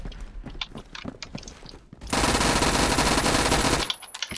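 Submachine gun like a MAC-10 firing in a video game: a loud, rapid continuous burst of about two seconds, preceded by quieter footsteps and handling clicks.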